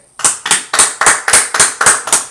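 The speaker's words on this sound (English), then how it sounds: "They all clapping, nobody's just sitting." About nine sharp, evenly spaced claps ring out in a quick steady rhythm, loud and close, from an audience at the BET Black Men's Summit.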